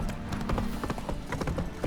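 Roach the horse gallops in The Witcher 3, hooves beating a quick, steady clip-clop rhythm close by with a faint whinny, against a busy game background.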